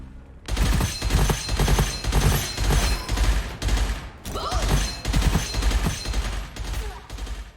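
Rapid gunfire from the FPS roguelite game Gunfire Reborn, loud sustained bursts of shooting in an even pulsing rhythm with no talking.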